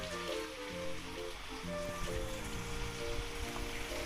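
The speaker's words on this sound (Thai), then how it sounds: "ตรงนี้ก็จะเป็นน้ำตกสวยๆนะคะ" A decorative waterfall at the Supanan Resort in Phatthalung, Thailand, rushes steadily, mixed with faint tonal background sounds and no one talking.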